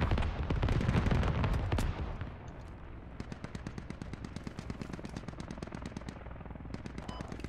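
Gunfire in the video game Squad: a heavy burst of loud, close shooting opens, then long stretches of rapid automatic fire crackle on and off, steady and dense, with no talk over it.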